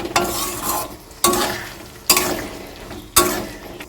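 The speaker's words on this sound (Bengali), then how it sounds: "সমস্ত উপকরণগুলো খুব ভালো করে নেড়ে চেড়ে মিশিয়ে নিচ্ছি" Potatoes and capsicum being stirred in a hot pan, four loud scraping strokes of a ladle, each followed by a fading sizzle, close up with no speech.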